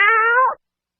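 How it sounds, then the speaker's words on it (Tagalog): A single cat gives one clear, close meow lasting about half a second, then silence follows. "This is the sound of a cat."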